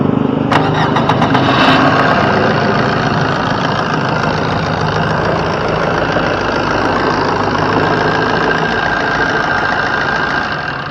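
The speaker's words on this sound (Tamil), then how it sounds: "வாங்க வண்டியோட இன்ஜின் சவுண்டு எப்படி இருக்கு அப்படின்றத கேட்போம்" A petrol Suzuki Swift engine idles steadily and close by, a continuous rough rumble with a few sharp ticks near the start, no voices.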